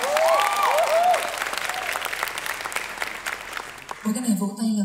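Audience applause at a love-songs concert, a steady crowd clapping heard under a sung note at the start, then cut off abruptly as a voice begins speaking.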